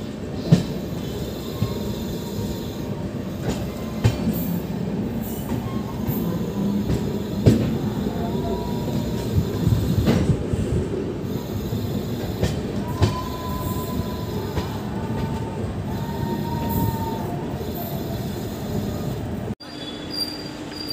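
Train 03423, the Bhagalpur–Haridwar special, rolls into Bareilly Cantt junction with a steady loud rumble from inside the coach, scattered wheel clacks and occasional faint squeals throughout.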